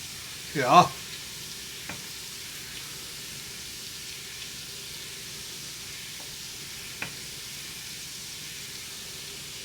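Heavy cream going into a hot pan for alfredo sauce, a quiet steady sizzling hiss with a few light clinks and a short spoken word near the start.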